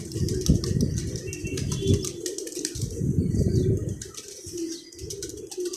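Pigeons cooing steadily in a low, throaty chorus, with occasional bursts of wing flapping and faint chirps, close by and fairly loud.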